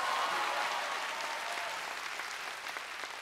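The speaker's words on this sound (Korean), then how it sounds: "이럴 때는 박수 조금만 쳐주세요." An outdoor crowd applauds during a Jinju Samcheonpo nongak folk performance, a continuous, even patter of many hands clapping, moderately distant and somewhat quiet, with no talking over it.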